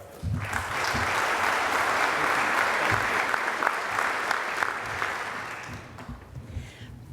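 Audience at a membership general meeting in San Antonio, Texas, applauds to welcome speaker Lisa Lagashar, a steady, full roomful of clapping lasting several seconds before tapering off near the end.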